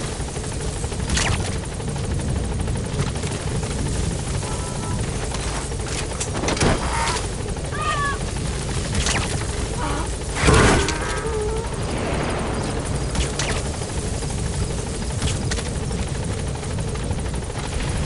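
A helicopter in Metal Gear Solid V drones continuously with a steady rotor roar as it comes in to land at the LZ. The sound stays loud and dense throughout, with occasional distant pops and short radio-like tones layered on top.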